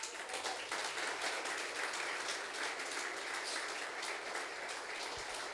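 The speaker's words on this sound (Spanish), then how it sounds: "Denle un aplauso al Rey." Church congregation at a Spanish-language special worship service breaks into sustained applause, a steady, fairly distant wash of many hands clapping with no voices over it.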